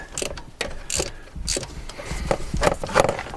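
A socket ratchet wrench clicks in several quick bursts while working on a 2003 Nissan Altima engine with a cam sensor fault, each run of close, sharp ratcheting separated by brief pauses.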